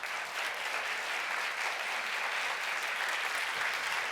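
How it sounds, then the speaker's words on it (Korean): A graduation service congregation at a Korean Christian elementary school welcomes a long-serving facilities manager with warm applause, a dense, continuous wash of many hands clapping at a steady level. "부장님 올라오실 때 큰 박수로 환영하겠습니다."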